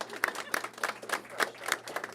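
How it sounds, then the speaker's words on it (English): An audience at a college access center opening claps with even, steady beats, loud and close, at a brisk rhythm. "Let's give Brooke a round of applause here"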